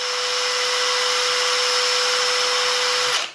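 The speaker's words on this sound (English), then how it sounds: "we have his drill. Let's spin this up and then like measure it." A power drill spins a small generator built from scrap for a homemade wind turbine, giving a loud, steady high-pitched whine with a clear tone that holds for about three seconds and then cuts off abruptly.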